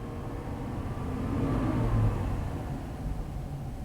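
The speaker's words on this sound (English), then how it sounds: "Yeah, let's rev it up a little bit." A GM car engine idles and is revved up briefly, a low rumble that swells in the middle and eases back, heard close and alone.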